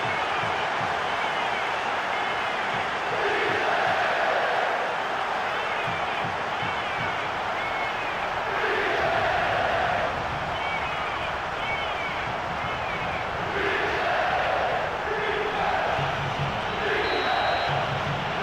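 Stadium crowd noise from the football video game PES 2013 during a match, a steady dense roar that swells and rises at times, with commentary voices running over it.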